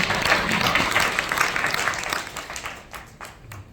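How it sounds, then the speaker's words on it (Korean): Loud audience applause at an inauguration ceremony of a Korean home long-term care association, dense clapping that holds steady and then gradually thins and fades. "뜨거운 박수 한번"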